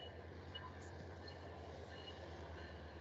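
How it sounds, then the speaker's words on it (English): A train passes nearby, a faint steady low rumble of rolling cars with occasional higher squeaks, continuous and fairly distant. "Train going."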